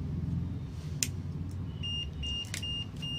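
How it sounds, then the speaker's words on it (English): Repeated short high-pitched alarm beeps from a MEXTECH HT 860D infrared thermometer signalling high temperature, sounding in a few quick bursts over a steady low background rumble. "the alarm is also going, and it is showing a red color, plus it is showing high"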